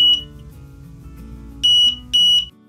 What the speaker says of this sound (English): The OmniBeacon will chirp